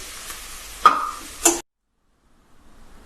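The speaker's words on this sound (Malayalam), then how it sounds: "ഇതൊന്ന് മൂത്ത് വരട്ടെ." Shallots and curry leaves fry in hot oil for a Kerala-style tender jackfruit thoran. A soft, steady sizzle is broken by a couple of stirring clinks, then stops abruptly into near silence.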